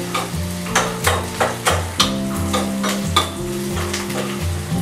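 Besan gravy roasting in oil in a pan for pitla, with a continuous sizzle and rhythmic stirring strokes scraping the pan roughly every half second, close and fairly loud.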